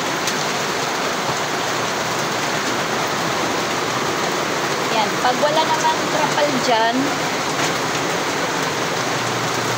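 Steady windless rain pours down onto a roof in a continuous hiss, with a person talking briefly over it partway through.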